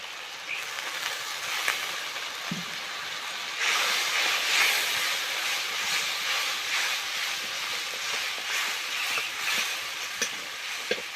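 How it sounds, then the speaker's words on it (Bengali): Water is poured into a hot spiced curry of katla fish and cauliflower, setting off a loud burst of hissing sizzle that holds steady. Scattered utensil clicks come through, and nobody speaks. "আবারও একটু অল্প করে জল দিয়ে দেব।"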